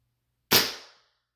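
A single sharp crack from an M9 pistol, loud and close, with a short fading tail and no talk.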